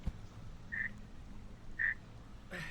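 Two short, bright croaks from a frog in a video game, spaced about a second apart over a low, quiet ambient background, followed by a brief burst of noise at the end.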